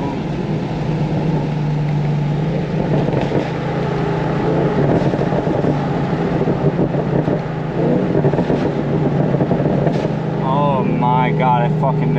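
A Chevrolet Camaro SS engine runs smoothly at a steady idle, a close, continuous rumble with people talking over it throughout.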